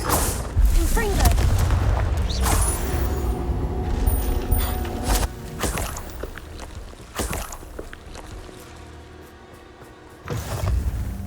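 The Confringo blasting spell in Hogwarts Legacy goes off in heavy booming explosions, several loud bursts spread across the stretch with rumbling decay and clattering debris between them.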